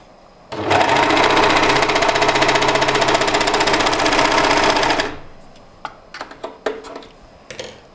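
A VERITAS Melanie overlock sewing machine stitches in one fast, loud, steady mechanical run lasting about four and a half seconds, then stops, followed by several scattered clicks and taps.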